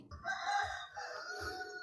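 A rooster crows once, a drawn-out, clear call held for nearly two seconds over faint low thumps in the background, with no talk.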